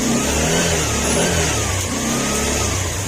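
Motorcycle engine warming up after being ridden through floodwater, a steady close running drone with slight revving fluctuation, loud and unbroken, no talk.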